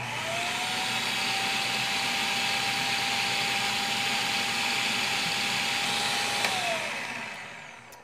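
Cuisinart food processor motor running steadily as olive oil is incorporated, a continuous loud whirring hum with a fixed whine that holds for about six seconds, then winds down near the end.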